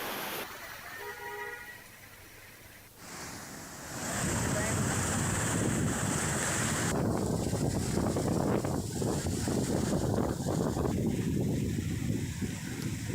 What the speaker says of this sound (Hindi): जिसकी वजह से लटिया नाला पूरी तेजी से बह रहा है